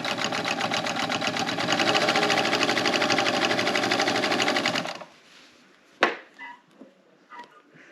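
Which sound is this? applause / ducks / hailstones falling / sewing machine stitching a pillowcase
sewing machine stitching a pillowcase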